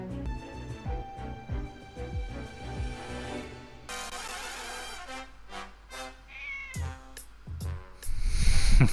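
Cat meows set within an orchestral soundtrack piece for Kamen Rider Gavv, a circus-like musical passage with layered instruments, the meowing cat sound surfacing over the music before a loud, dense ending swell.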